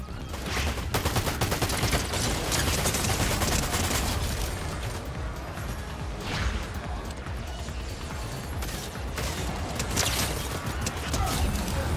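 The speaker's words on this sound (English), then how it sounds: "This is a dope pistol." Rapid pistol gunshots in the Fortnite video game, a dense run of sharp cracks and impacts over busy game sounds, loud and close throughout with no talk.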